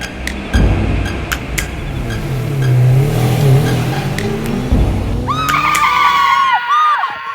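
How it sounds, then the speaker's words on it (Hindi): A car approaches along a road and accelerates, its engine swelling loudly and then fading, followed by a sharp high tonal squeal near the end. "गोपी, तुझे पक्का पता है कि वो डॉक्टर की गाड़ी इसी रास्ते से गुजरती है?"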